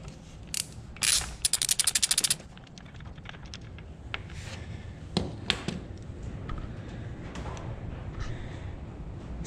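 A socket wrench clicks and ratchets while a spark plug is being loosened from a 1980s Yamaha Moto4 80cc ATV, with a quick burst of sharp ratchet clicks followed by scattered lighter metallic ticks and scrapes up close.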